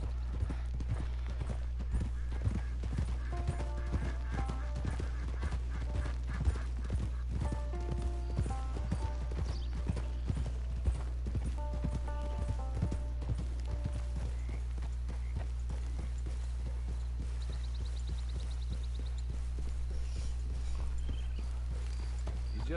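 Horse hooves clip-clop in a steady walking rhythm in Red Dead Redemption 2, close and even, with soft music beneath and no talk.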